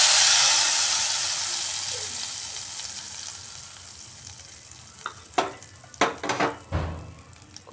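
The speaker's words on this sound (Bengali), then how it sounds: "গ্যাসটা বন্ধ করে দিয়ে এর মধ্যে দিচ্ছি কাশ্মীরি লাল লঙ্কা, এবার ডালের উপর আমি এটা দিয়ে দিচ্ছি।" Kashmiri red chilli tempering, made with the gas turned off, is poured over spinach dal and bursts into a loud hissing sizzle that slowly dies away, followed by a few sharp clinks and scrapes of stirring near the end.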